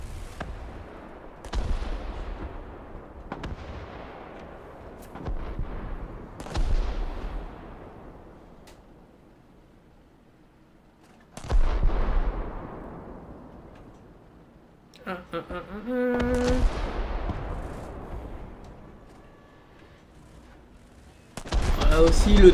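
Booming cannon shots from an AML-90 armoured car in War Thunder ring out one by one with long decaying tails, separated by pauses, with one burst of rapid gunfire in between and someone talking at times.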